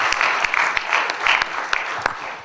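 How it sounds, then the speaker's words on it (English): Comedy club audience in Moose Jaw applauding for the tour manager, a dense burst of clapping with a few louder claps, steady and close for a couple of seconds. "Big round of applause for Tim"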